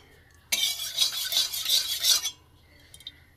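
Chili and garlic paste hits hot mustard oil with a sudden loud sizzle and scrape lasting about two seconds, then dies down to a couple of faint clinks.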